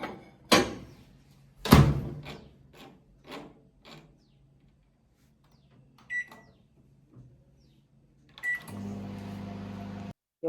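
A microwave oven cooking okra for masala bhindi: clunks and bumps of the door and handling, two short beeps, then the oven's steady low hum starting near the end.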